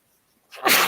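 A single sharp sneeze bursts out after a moment of near silence, loud and close.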